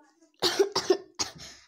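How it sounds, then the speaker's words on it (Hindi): A few sharp, close coughs in quick succession, with a brief pause between the bursts. "सॉरी भाई मेरे को खांसी आ गई।"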